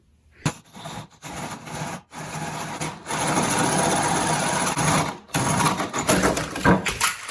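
A 1.5 inch spade bit boring a hole through clamped wood, making a rough, grinding whir that runs in several stretches with brief stops between them.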